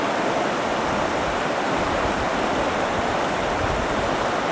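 A river runs strongly in the mountains in a dry year, giving a steady, loud, broadband rush of flowing water that fills the whole span without pause and without voices.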